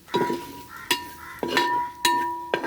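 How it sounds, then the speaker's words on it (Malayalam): Ingredients for a varutharacha chicken curry stirred in a pan, a metal spoon scraping and clinking against the pan at a steady pace, with faint frying beneath. "അപ്പോൾ ഇത്രയും ഇട്ടിട്ട് നമുക്ക് നന്നായിട്ട് ഒന്ന് വഴറ്റിയെടുക്കാം."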